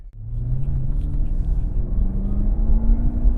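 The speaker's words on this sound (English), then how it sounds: "Supercharger whine." A Camaro ZL1 1LE's supercharger gives off a steady rising whine over a deep engine rumble as the car accelerates, loud and close, with no talk.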